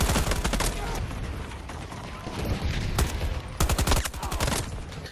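Gunfire from an AK-style rifle in Battlefield 2042 comes in short, fairly slow bursts of loud shots separated by brief gaps. Game ambience runs underneath.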